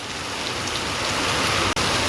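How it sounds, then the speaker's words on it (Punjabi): Heavy rain falls steadily in a mountain setting, a dense, even hiss of downpour close around the listener with no voices, broken only by a split-second dropout near the end. "ਚੈੱਕ ਕਰੋ ਮੀਂਹ ਕਿੰਨਾ ਉਹ ਸਾਹਮਣੇ ਪਹਾੜਾਂ 'ਚ ਦੇਖੋ ਨਜ਼ਾਰਾ ਮੀਂਹ ਕਿੰਨਾ ਲੱਗਿਆ ਯਾਰ"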